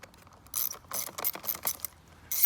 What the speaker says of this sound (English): So with a ratchet, just grab the first tool. Grab the first torque screw and turn it to the left.